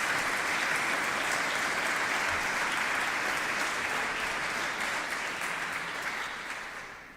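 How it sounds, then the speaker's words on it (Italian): Dense, steady applause from a large theatre audience during a live stream, sustained throughout and tapering slightly at the very end. "Un applauso anche ai nostri."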